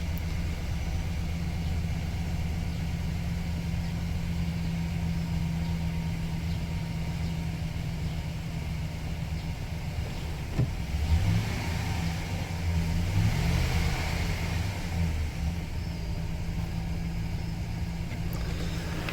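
A 2006 Chevy Silverado engine idles right after starting, following knock sensor replacement, giving a steady low rumble that holds for the whole stretch with slight swells in the middle.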